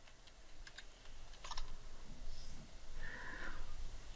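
Keys tapped on a computer keyboard while entering an Excel project, faint clicks scattered over a steady room hiss, with a brief cluster of taps near the middle and no talking.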